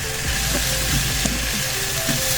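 Chopped green onion going into a pan of frying chili and shrimp paste for Indonesian sambal, a loud continuous sizzle with scraping stirs and small pops, no voices.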